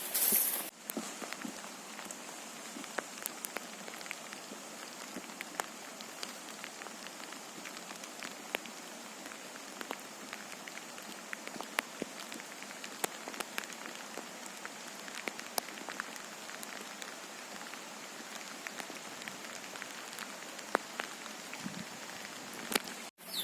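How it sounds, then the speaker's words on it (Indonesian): Rain falls during a mountain hike on Gunung Kuta near Sukamakmur, Bogor, a dense, even patter of drops on surfaces broken by scattered sharper drips, steady and nearby. "Masih hujan guys"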